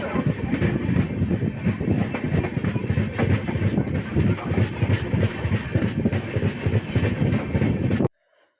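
A train runs along at a steady pace, with a continuous loud rumble and rhythmic clickety-clack of the wheels close by, cutting off abruptly near the end.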